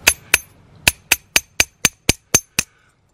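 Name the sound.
hammering copper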